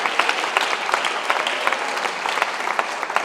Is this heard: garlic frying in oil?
no